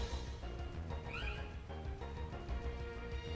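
A cat meows once in a Pokémon video game over dense game music and sound effects, the meow brief and partly buried in the mix.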